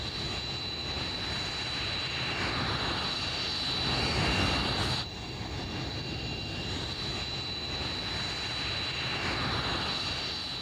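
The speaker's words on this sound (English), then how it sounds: "This T8 taxis in after a training session." A Hawker Hunter T8 jet trainer taxiing in after a training flight, producing a steady, broad engine roar with a high whine, swelling slightly midway and then settling at a constant level.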